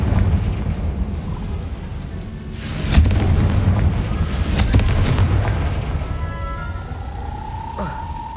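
A Confringo fire-blast spell going off in Hogwarts Legacy: a loud booming burst around three seconds and another rumbling blast near five seconds over a low roar, ending in a whooshing tone.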